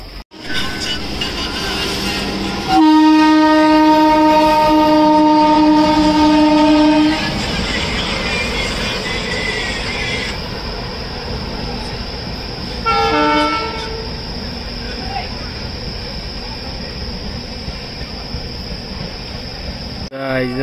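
A train arrives at a crowded railway station in Allahabad, Uttar Pradesh, sounding a loud, long sustained horn blast followed by a shorter second honk, over a steady rumble of rolling wheels and station noise.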